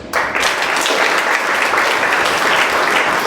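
A church congregation bursts into loud, sustained applause and cheering to acclaim Jesus during a French-language sermon on prayer, the clapping starting abruptly and filling the space steadily to the end.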